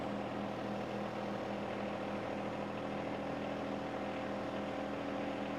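A tractor drives into a loader, its engine giving a steady, faint, continuous rumble and drone with no other sounds and no voices.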